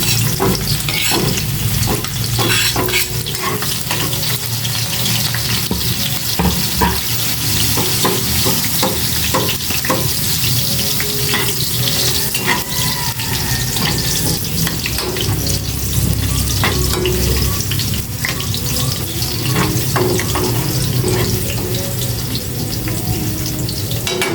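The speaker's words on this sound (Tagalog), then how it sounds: "Gisa ko na po itong bawang. Kasama na po yung sili." Garlic and chili sauté in a hot pan in a rural home kitchen, a loud, steady sizzle with spatters and stirring scrapes running close and continuous throughout.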